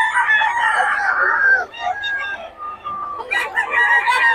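Several roosters crow loudly and close by, their calls overlapping with some clucking, and a brief pause midway before more crowing.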